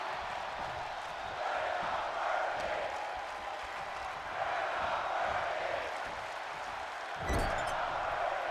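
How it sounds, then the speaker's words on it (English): Wrestling crowd in WWE 2K25 keeps up a rhythmic, swelling chant over a constant arena murmur, with a sharp thud near the end. "The crowd loving this one now, chanting, "We are not worthy,""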